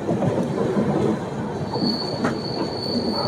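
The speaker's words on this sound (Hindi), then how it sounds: "तो जी अभी अपनी ट्रेन बहुत ही प्यारे कर्व के साथ आगे बढ़ रही है" A passenger train rolls around a curve, a continuous rumble of wheels and carriages with a thin high squeal of wheels on the rail rising partway through.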